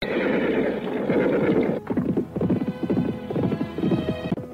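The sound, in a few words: horses neighing and galloping on a path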